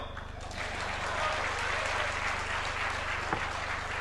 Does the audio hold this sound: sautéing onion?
no